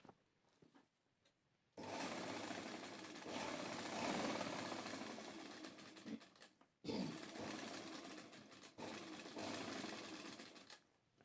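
A sewing machine stitches a finishing strip in two long runs, its motor whirring and needle chattering loudly and close, with a short pause between bursts.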